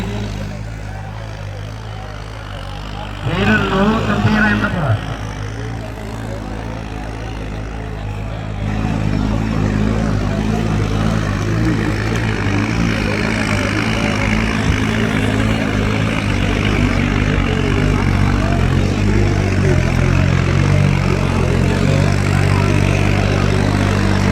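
A New Holland 3600 tractor engine runs loud and close with a steady low drone that swells and intensifies partway through, while voices and a brief tonal burst sit over it early on.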